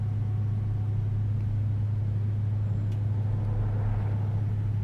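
A car drives steadily in Assassin's Creed III, with a constant low engine drone and road rumble that holds at the same loud level throughout, with no voices over it.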